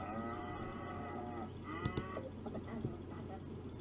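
Cattle mooing in the video game McDonald's Simulator, a few drawn-out lowing calls over a steady background hum, moderately loud and close.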